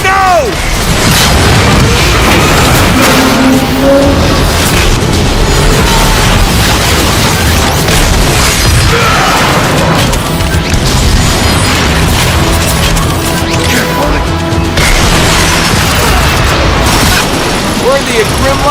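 Rocket explosions and heavy gunfire boom continuously during a Transformers: Fall of Cybertron battle, loud and cluttered with crashing impacts and mechanical clatter, while characters speak over the chaos.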